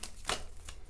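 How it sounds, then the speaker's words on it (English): Tarot cards are shuffled in quick bursts, three or four crisp riffling snaps spaced unevenly, close and fairly quiet with no talking. "Now I'm going to shuffle these cards"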